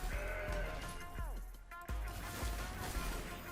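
A goat bleats as a video game sound effect, several wavering bleats close up and fairly loud over a busy game soundscape, with thuds and crashes between them.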